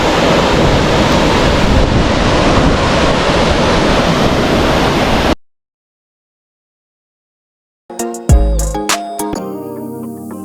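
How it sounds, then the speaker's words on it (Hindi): Water at Rainbow Falls pours in a dense, steady roar for about five seconds, then cuts to silence before a burst of unrelated sharp, tonal sounds near the end. "और ये पानी यहाँ से बहता हुआ"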